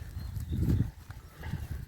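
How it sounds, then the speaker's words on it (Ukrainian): Soft clopping of a working horse's hooves on ground, a few uneven steps, close by with low rumble and faint background noise. "Такі є робочі коні."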